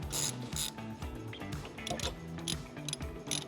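A tilt limiter knob being threaded by hand onto an Aeron Classic office chair, giving close, small clicking and ratcheting mechanical sounds in a steady, irregular stream.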